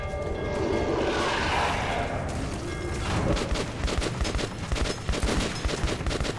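Gunfire in the first-person shooter Metro 2033 Redux: a blast and rumbling roar fade into a fast series of loud, close, rapid-fire shots that keep going without a break.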